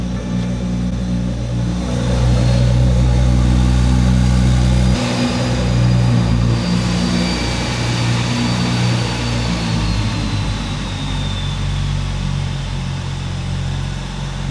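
A modified Nissan VQ turbo engine with a full exhaust idles steadily after a cold start, a deep, even rumble close by with no voices.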